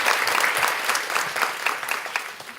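An audience claps together at a children's ministry training session, a dense, lively wash of applause that tapers slightly toward the end.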